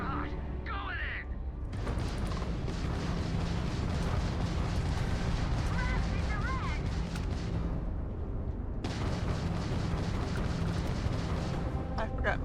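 Dense, continuous volleys of gunfire and heavy booming in the video game Starfield, loud and sustained, with a short pause near the middle before the barrage resumes; voices are faintly present underneath.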